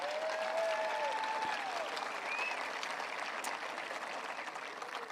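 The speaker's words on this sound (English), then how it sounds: "Yes, please give them a hand clap." Applause for the Buchanan High School class of 2024 at their graduation ceremony, a broad, sustained clapping from a large crowd heard at some distance, with a few faint whistles rising over it.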